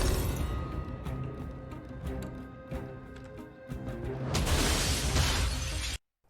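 Bulletproof glass shatters in a film scene, a loud burst of crashing and tinkling fragments over a rumbling background that swells toward the end and then cuts off sharply.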